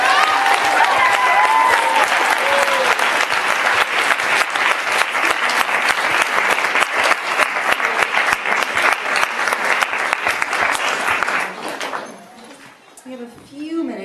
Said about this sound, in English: I would like to see a round of applause for Fiona and these girls for sharing so courageously.